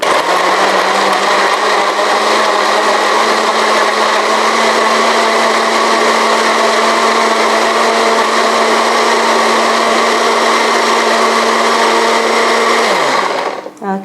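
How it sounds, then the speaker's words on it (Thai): A blender whirs loud and steady for about thirteen seconds while blending fermented tofu sauce, then winds down and stops. "นี่ก็ปิดฝานะคะ และปั่นให้ละเอียดค่ะ"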